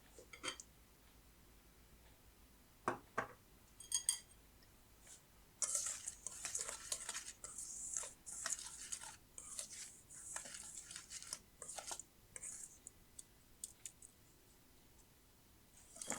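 Frozen fries and chopped spinach tossed with olive oil in a bowl, giving close, soft crinkly rustling and sticky squelches in bursts, after a few sharp clicks at the start.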